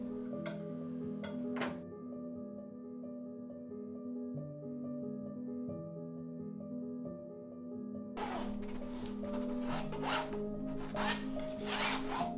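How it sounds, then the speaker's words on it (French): A painting knife sweeps and scrapes thick paint across a canvas in an artist's studio, giving a close, continuous rasping rub with a steady tone beneath it and brisker scraping strokes near the end. "J'utilise le couteau à peindre pour balayer la peinture facilement et pour sculpter la matière."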